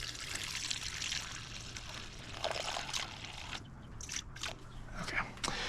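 Water is poured into a bowl for sourdough bread dough, a soft steady trickle with a few drips and sloshes at close range, faint in a quiet kitchen.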